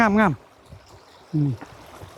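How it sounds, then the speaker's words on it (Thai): Stream water flows at Kaeng Tu as a soft, steady wash, with two brief bursts of voices rising over it. "เสียงน้ำดัง"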